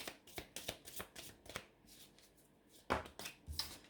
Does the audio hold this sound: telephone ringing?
no